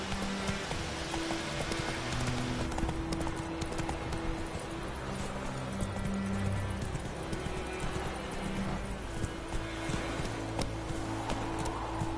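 A horse gallops in The Witcher 3 with rapid, steady hoofbeats over continuous game ambience, the clip-clop fairly quiet and sustained throughout.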